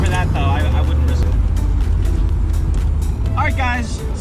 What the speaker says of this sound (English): Just a fun little cruise in this car.